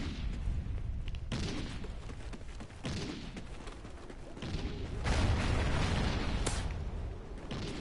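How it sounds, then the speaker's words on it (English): Shotgun fire booms in a video game during a killing spree, several loud broadband blasts spaced a second or two apart over a constant backdrop of game noise. "Shotgun time."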